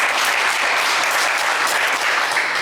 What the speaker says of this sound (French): On vous applaudit très